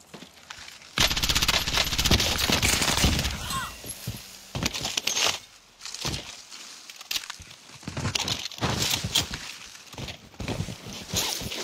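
Bursts of video game gunfire, rapid automatic rattles and single shots, come loud and close in clusters across the span, with footstep-like clatter and brief quiet gaps between volleys.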